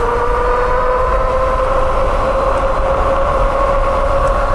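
Electric cargo step-through e-bike climbing a 6% grade on throttle alone, its steady motor whine with a strong tonal hum running loud and close over constant rolling and wind noise, no voices.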